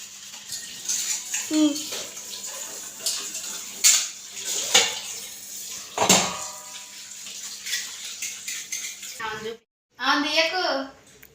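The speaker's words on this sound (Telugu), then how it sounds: "అయితే గిన్నెలు అయితే కంప్లీట్ చేసేస్తా తొందర తొందరగా" Dishes clatter and scrape in a sink with running water, sharp clinks scattered throughout, while a person talks over the washing.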